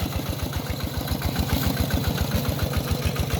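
A walk-behind tractor's small engine chugs loudly and steadily nearby while ploughing a field, a rapid rhythmic thumping putter that holds an even pace throughout.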